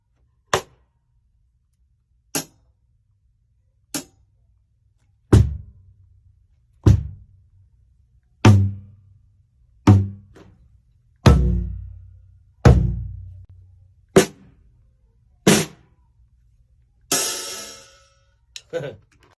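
Drum one-shot samples for a grimy drum break fire one at a time: a dozen isolated hits spaced about every 1.5 seconds, early ones thin and clicky, later ones heavier with booming low tails, the last a noisy crash-like burst.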